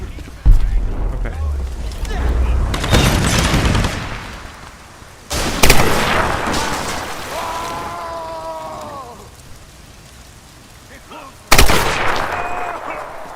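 Three loud, sharp gunshots ring out seconds apart in the Tomb Raider video game, each followed by a short echoing tail, over a windy, rumbling in-game backdrop. Someone talks between the shots.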